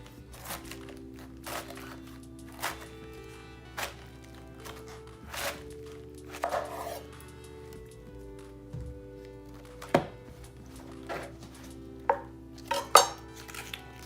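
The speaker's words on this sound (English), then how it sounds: "cut my cabbage up." A knife chops through cabbage on a cutting board while making sauerkraut, sharp irregular thuds and crunchy cuts spaced a second or so apart, close and fairly loud.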